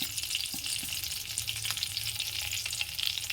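Cumin, green chillies and nigella seeds temper in hot oil with a continuous crackling sizzle and scattered pops. The sound is fairly close and there is no talk.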